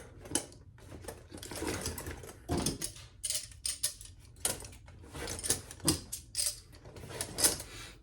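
Ice screws, 13 cm lengths, being loaded into the slots of a High Mountain Gear ice screw cannon, heard as a busy run of close metallic clicks, rattles and clacks in irregular bursts.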